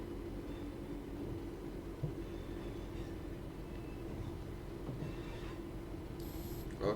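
A train in Train Sim World 5 rolls along with a steady low rumble and faint clicks, fairly quiet, with a brief higher whine near the end and no talk.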